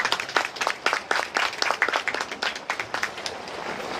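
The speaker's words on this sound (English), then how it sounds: "Please give him a round of applause." Applause at a farmers' association ribbon-cutting ceremony for an introduced guest, a moderate patter of hand claps from a modest crowd that continues steadily and softens toward the end.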